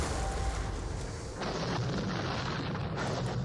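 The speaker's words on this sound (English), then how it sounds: "And some infantry fire as well." Infantry musket volleys crackle in the John Tiller Napoleonic Series wargame during the Battle of Eylau, a dense, continuous rumble of fire that briefly dips and then surges again.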